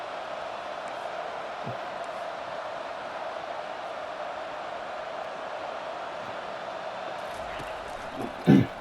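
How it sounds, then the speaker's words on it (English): Stadium crowd noise from the EA Sports College Football 25 video game: a steady, even roar of many fans sustained throughout, with a short louder thump near the end. "Listen to the crowd energy here in the early going."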